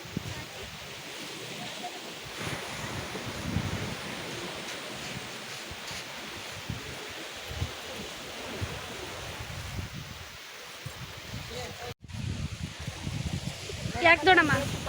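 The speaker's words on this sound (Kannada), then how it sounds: "ಇದು ಸೋಮೇಶ್ವರ ಬೀಚು." Surf rolling in at Someshwar beach, a steady broadband wash of waves with wind noise over it, continuous and moderately loud, with a brief dropout near the end.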